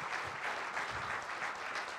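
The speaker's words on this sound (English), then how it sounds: "I want a round of applause for our presenter." Audience applause for a presenter at a talk on Wisconsin's historic bars and breweries, a steady wash of clapping that holds evenly throughout at a moderate distance.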